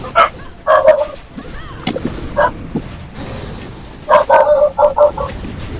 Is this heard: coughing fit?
no